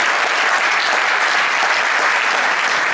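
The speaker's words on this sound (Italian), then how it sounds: "E qui ci vuole l'applauso." Dense, loud applause from a crowd at a political campaign rally in Nocera Inferiore, a continuous wash of many hands clapping at steady volume throughout, with no other sounds breaking through.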